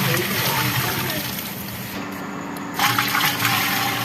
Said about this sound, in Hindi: अब हमने इसमें 40 लीटर पानी शामिल करना है।